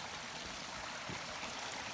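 Blue Creek flows through the Colorado backcountry during an elk hunt, a faint, steady rushing hiss of water over rocks heard from a short distance with no voices.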